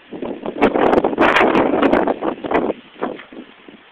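Blizzard wind gusts hard across the microphone during a major snowstorm in Frederick, Maryland, a loud rushing roar that swells and fades over a few seconds before dropping to a softer rustle.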